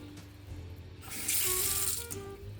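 Water runs steadily from a kitchen faucet, a soft rushing stream that grows louder and fuller partway through, with no talking.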